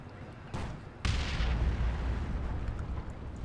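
Cannon fire in Warhammer 40k Dawn of War 2, heavy booming blasts that burst in around the half-second and one-second marks, then roll on as a dense, rumbling battlefield roar.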